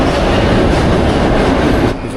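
A New York subway train runs loud and close with a steady roaring rumble and rattle, which drops off slightly near the end.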